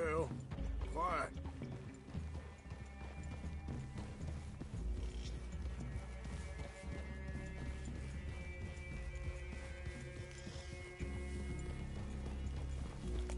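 Horse hooves clip-clopping in the video game Red Dead Redemption 2, a soft steady rhythm of several horses walking, faint and low in the mix under background music and voices talking throughout.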